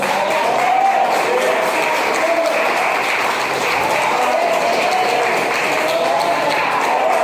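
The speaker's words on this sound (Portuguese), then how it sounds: "Você pode glorificar o Senhor com uma salva de palmas?" A church congregation claps together in sustained, steady applause that fills the room at even loudness for several seconds, with faint voices mixed in.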